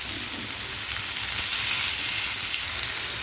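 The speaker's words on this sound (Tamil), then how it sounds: "இப்போ ஒரு சைடு நல்லா ஃப்ரை ஆனதும் நம்ம மாற்றி போட்டுடலாம்." Fish coated with curry leaves frying in a pan, a steady close sizzle of hot oil running unbroken throughout with no voices.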